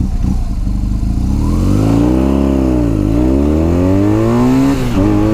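BMW R1200S boxer-twin sport bike accelerating hard from a standstill toward 60 mph, its loud close engine climbing through rising revs with brief dips at gear changes, then pulling up again.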